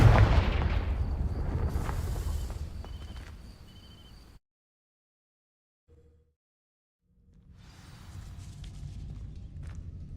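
A Confringo fire spell in a video game bursts against dry vines in a loud whooshing blast with crackling burn and bright chimes. A brief silence follows, then quieter rustling ambience returns.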